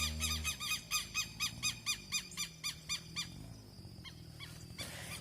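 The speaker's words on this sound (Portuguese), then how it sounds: "Olha os passarinhos." Small birds chirp in a rapid, regular series of bright repeated calls, fairly close, during an afternoon on a rural farm plot near a bean field, with a lower hum beneath that fades after the first half second.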